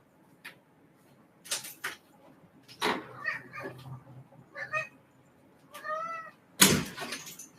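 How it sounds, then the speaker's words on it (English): A house cat meows several times beside a door, short separate cries spread across a quiet room, fairly close, with brief gaps of near silence between them. "Let me open the door for my cat."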